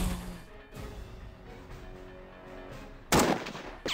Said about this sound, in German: zweiten Schuss nicht getroffen